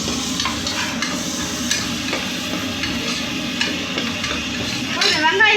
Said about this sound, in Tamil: இப்போ நம்ம மிளகோட சேர்த்து அரைச்சி வச்ச வெங்காயத்தை போட போகிறோம்.